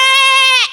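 A person imitates a goat's bleat: one loud, close, wavering nasal call lasting under a second, trailing off at the end, with no other sound around it.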